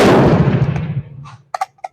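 A single loud rifle shot from a refurbished, rebarreled Enfield No. 5 Mk1 firing reloads at 100 yards booms up close and rolls off over about a second, followed by a few quick, sharp mechanical clicks.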